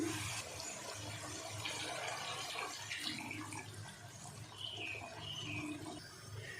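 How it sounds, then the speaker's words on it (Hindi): Water is poured into a pot of cooked spices for arhar dal khichdi, a soft continuous pouring and splashing close by, fairly quiet and steady throughout. "और अब डाल देते हैं इसमें पानी।"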